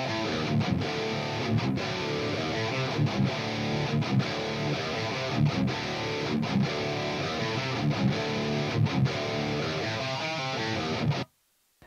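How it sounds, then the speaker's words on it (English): Two hard-panned electric guitar tracks run through an Amped Super Duper amp, playing dense, steady chords with rhythmic stops for about eleven seconds before cutting off abruptly, alone with no talk. "We have two hard pan guitar tracks and they sound like this."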